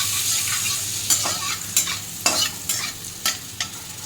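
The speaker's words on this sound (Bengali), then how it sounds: "এখন চপ করা এই ক্যাপসিকামটা আর অনিয়নটাকে আমি কড়াইতে দিয়ে দেবো" Chopped capsicum and onion fry in butter with browned garlic in a wok over high flame. A soft, steady sizzle carries repeated sharp scraping stir strokes, close and clear, with no talking.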